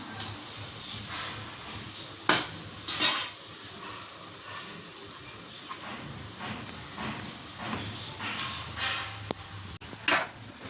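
Lentils roasting in a pan while being stirred, a low steady hiss with a few sharp scraping strokes and clinks of the utensil against the pan.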